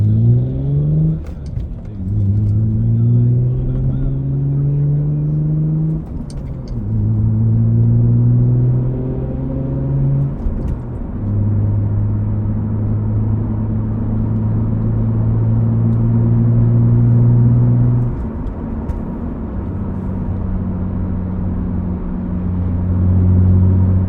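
A Toyota Camry V6 with a five-speed manual driving from inside the cabin, the engine droning and climbing in pitch through several gear changes, each shift dropping the revs before the next pull, steady and loud with no talk.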